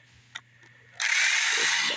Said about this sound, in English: Drill in my left hand. Reverse.